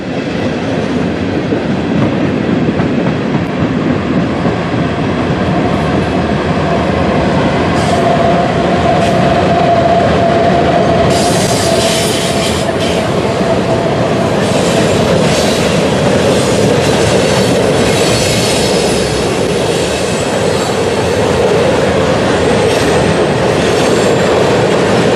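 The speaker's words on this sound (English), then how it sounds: "a Norfolk Southern eastbound freight train then came by on the bridge." A Norfolk Southern eastbound freight train hauled by GE locomotives crosses a bridge, loud and close, with continuous rolling wheel rumble, rhythmic clickety-clack and brief high wheel squeals over about 25 seconds, no talk.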